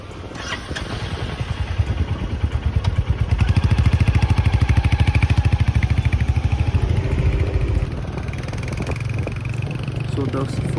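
A 2022 Royal Enfield Hunter 350 motorcycle pulls away on a test ride, its single-cylinder engine thumping rhythmically and building loud and close, then easing back to a softer run, with a rider's voice talking over it.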